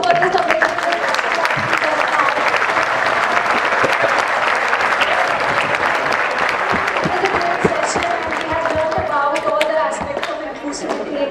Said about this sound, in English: huge round of applause for this amazing